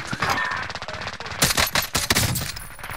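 Rapid bursts of gunfire in Call of Duty: Modern Warfare crackle in quick succession, loud and close, with a denser volley toward the middle.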